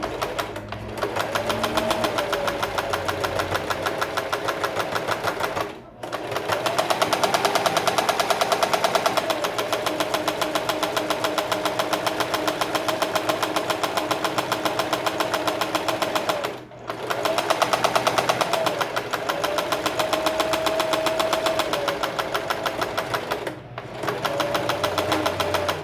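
A sewing machine stitches a hem on a fabric dish towel, running in a fast, steady mechanical chatter close up for long stretches. It stops briefly three times before starting again.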